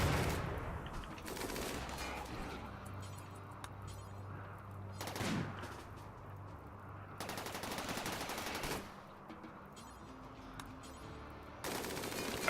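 Turrets firing in a video game, sustained bursts of rapid automatic gunfire with intermittent louder volleys, moderately distant and continuous over a low background rumble.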